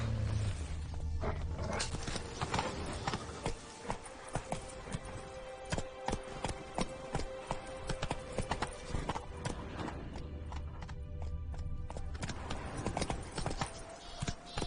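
Horse Roach's hooves clip-clopping steadily on the ground in The Witcher video game, a continuous walking rhythm with a few brief vocal sounds over it.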